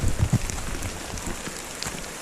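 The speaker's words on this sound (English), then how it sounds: "under this kind of rain" Rain patters steadily around a hiker on a trail between Shippensburg Road and Pine Grove Furnace State Park, with a few louder close drops at the start and a continuous soft hiss.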